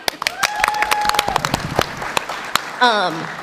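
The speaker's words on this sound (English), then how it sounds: "can we have a clap for Danny?" Audience applause at a Stargate 30th anniversary fan celebration at San Diego Comic-Con, scattered claps and a crowd murmur under someone talking, ending in a short cheer.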